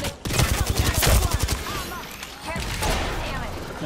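Gunfire in the Apex Legends video game, a burst of rapid shots loud and close for about a second and a half, then quieter scattered firing and game noise, with a voice speaking over it.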